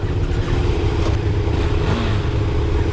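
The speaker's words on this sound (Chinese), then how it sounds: "单缸的声音很浑厚" Steady low rumble of a KTM 390 Duke single-cylinder motorcycle engine, close and loud, running throughout with no talk.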